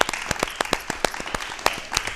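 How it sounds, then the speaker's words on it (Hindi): Applause from a studio audience on a talk show, with distinct sharp claps standing out in an irregular rhythm over a softer bed of clapping. "लिए जोरदार तालियां बजाई जाएं"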